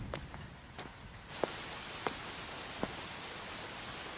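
Heavy rain falls in a dense, steady hiss, with a few sharp knocks or footsteps in the rain close by and no voices.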